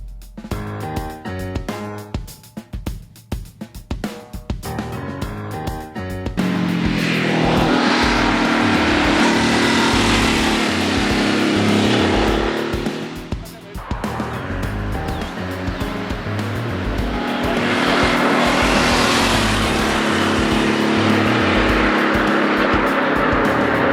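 A Ducati Multistrada motorcycle being ridden, its engine rising to a loud, sustained roar full of wind rush after a brief rhythmic start, the pitch swelling and falling as it accelerates and eases off.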